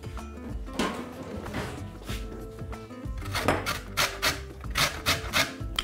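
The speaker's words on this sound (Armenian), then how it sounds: "Նախ քերում ենք կիտրոնի կլեպը։" Lemon peel rubbed against a metal grater to take off the zest, a close series of rasping scrapes that come in rhythmic strokes and grow stronger toward the end, with no voices.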